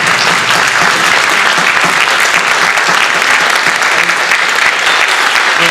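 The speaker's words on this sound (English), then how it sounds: "Can we have a round of applause?" Loud, sustained applause from an audience at a jazz camp, a dense steady clatter of many hands clapping together that fills the space throughout.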